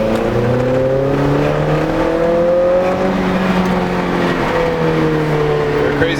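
A widebody Honda S2000 race car's engine drones loud and steady from inside the car, its pitch sliding gently up and down without pause.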